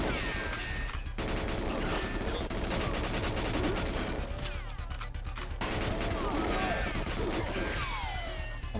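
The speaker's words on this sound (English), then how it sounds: "that explosion did a lot of damage" Explosions and gunfire from the GoldenEye 007 video game, dense overlapping blasts and rapid shots filling the whole stretch, loud and continuous with a brief lull near the middle.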